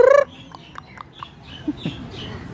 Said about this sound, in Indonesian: Ni ada ayam.